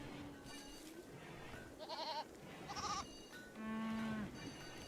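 Sheep in the colony sim RimWorld bleat several times in short, clear calls over a steady low game background, with no talking.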